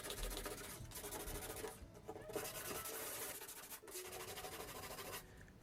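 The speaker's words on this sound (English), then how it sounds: "So now we're getting close to completing the sanding" Hand sanding of an artwork with sandpaper, a steady raspy rubbing that runs almost without a break, with short pauses, close and fairly loud.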